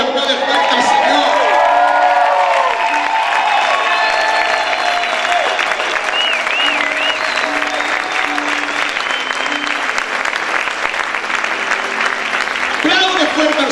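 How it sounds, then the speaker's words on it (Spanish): A church congregation applauds and shouts loudly throughout, with cheering voices and whoops over sustained dense clapping, fading briefly near the end before swelling again. "Grite y aplaude fuerte al Señor"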